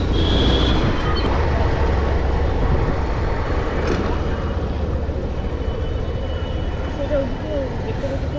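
A train at Kolkata station makes a loud, continuous low rumble, with voices talking over it throughout.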